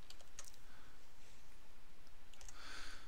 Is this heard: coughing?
no